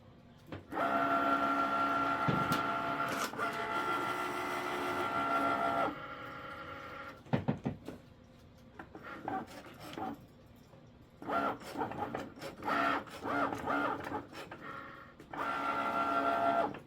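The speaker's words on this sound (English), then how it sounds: "Let's hit our Cricut button and let it go." A Cricut cutting machine cutting vinyl on a mat: a close mechanical whir and buzzing motor in bursts as the carriage moves, with pauses and short clicks between passes, no talk.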